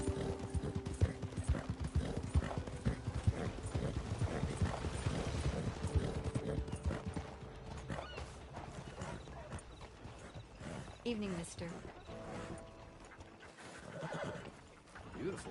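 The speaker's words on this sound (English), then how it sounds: "Beautiful horse you got." Horse hooves clip-clop close by on hard ground and a horse neighs loudly, with a voice speaking briefly over the hoofbeats.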